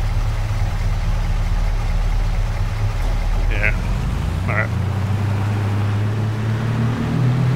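A tractor engine in Farming Simulator 22 drones steadily at a low idle throughout, its pitch shifting slightly partway through, while someone speaks briefly over it.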